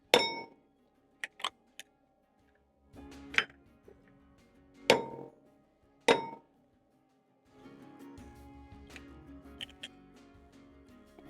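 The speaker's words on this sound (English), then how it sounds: "you're going to crack in 4 eggs to a bowl" Four eggs are cracked into a bowl, heard as several sharp, close taps and clinks against the rim spaced a second or two apart, followed by faint rustling and a low hum.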